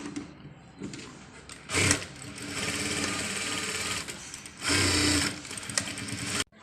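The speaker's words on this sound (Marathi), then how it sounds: "आता मी इथे टक्स टाकून घेते." A sewing machine stitches tucks on a blouse in short bursts, its motor whirring up loudly for a couple of runs between quieter pauses, close up.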